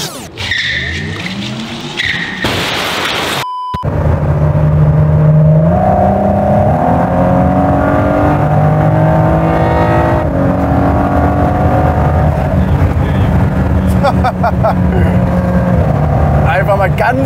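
A Ford GT supercar accelerates hard at full throttle, its engine note climbing loud and close through rising gear pulls with brief shift drops, after a short burst of earlier noise and talk; people speak over the roar.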